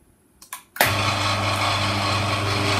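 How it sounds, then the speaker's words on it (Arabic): Two short clicks, then an electric garage door motor in a home automation setup starts up and keeps running with a loud, steady whirring hum. "هاد الموتور الكتريك ديال بورت كراج عندي في لا زون 2، ناكتيفيوه."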